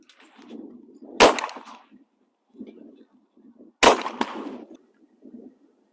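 Two sharp shotgun blasts at clay targets on a shooting range, spaced about two and a half seconds apart, each with a short ringing tail, with quiet low murmuring between shots.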